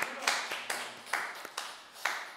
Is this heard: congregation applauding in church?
yes